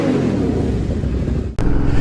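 A motorbike pulls away under throttle, its engine rumbling loud and close with a steady revving drone and a brief dip near the end. No one speaks.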